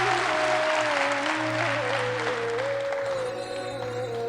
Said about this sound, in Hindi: मुझे ये आर्टिफिशियल ताली क्यों बजाते हो भाई, थोड़ा रियल ताली बजा